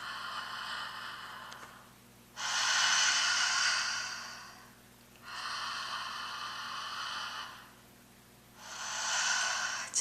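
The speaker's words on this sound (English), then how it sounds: "Deep, slow breaths like this." Deep, slow breathing exercise: three long, airy breaths drawn and released close to the microphone, each lasting a couple of seconds and separated by short quiet gaps, with no talking.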